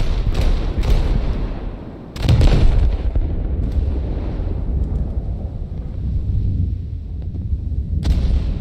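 Heavy bomb detonations on a warship's deck in a naval combat video game, dense booming blasts and rumbling impacts rolling continuously, with sharper bursts near the start and end over a steady low roar.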